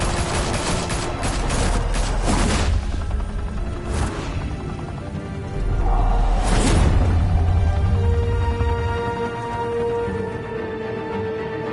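Gunfire erupts during a shootout in Batman: The Telltale Series, with dense, loud overlapping bursts of shots and impacts, swelling again midway and continuing for over ten seconds.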